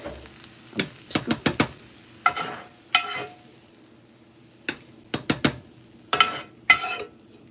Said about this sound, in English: You want to stir your beans because they will stick.